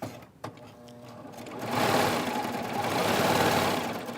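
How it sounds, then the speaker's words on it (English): A serger sewing machine set up as a 4-thread overlock, stitching flannel for a blanket, starts with a click and runs up to a steady, close whirring buzz that holds for several seconds with no talking. "I do have this set up as a 4-thread overlock."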